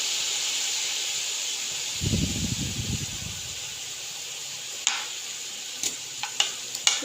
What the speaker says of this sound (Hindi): एक से 2 मिनट हम इसकी भुनाई करेंगे।